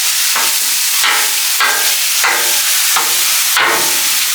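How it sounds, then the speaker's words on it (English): Ground beef sizzles loudly in a hot pan while a big spatula chops into it, with regular scraping strokes about every half second over a constant frying hiss, close and without talk. "I'm going to take my big spatula here and I'm going to chop it up"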